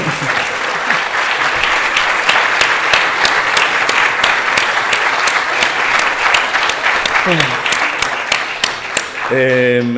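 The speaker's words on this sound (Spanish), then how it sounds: "vamos a aplaudirle más todavía" A large audience gives loud, sustained applause at a talk, dense clapping with sharp individual claps throughout, and a brief voice or tone cutting in near the end as it winds down.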